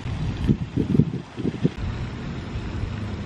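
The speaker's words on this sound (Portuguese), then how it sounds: "Só temos um ventinho bom ainda" Wind gusting outdoors in the aftermath of Hurricane Dorian, a rough steady rush buffeting the microphone, with heavier low rumbling gusts early that settle into a continuous blustery hiss.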